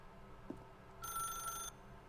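A telephone rings once in the Stanley Parable video game, a short, bright electronic trill lasting under a second, clear over a quiet background with a faint click just before.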